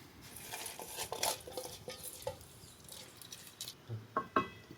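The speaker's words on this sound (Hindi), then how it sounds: "चावल ऐड करने के बाद इसको चमचे अच्छी तरह से मिक्स करेंगे" A spoon stirs rice into boiling water in a cooking pot for chicken pulao, giving soft irregular scrapes and clinks against the pot over a faint bubbling background.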